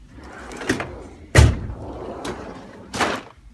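Drawers on a roll-around tool chest slide and bang shut, with four separate rolling thuds and knocks spaced about a second apart and one heavier slam.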